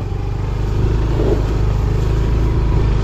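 Motorcycle engine labouring loudly and steadily as it climbs a rough uphill farm road, close by with a constant low drone and slight clatter throughout.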